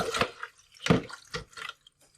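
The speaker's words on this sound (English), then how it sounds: "Fill the tank with water to the max line, which is here." Water pours into the tank of a Spinn coffee maker in short bursts, three distinct splashing pulses spaced about half a second apart, close and moderately loud with quiet gaps between.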